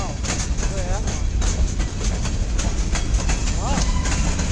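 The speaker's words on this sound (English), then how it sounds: "There's the end of the train." A CSX local freight train rolls past near Emmett, Michigan, its cars giving a loud, steady rumble with rhythmic clickety-clack over the rails while people talk nearby.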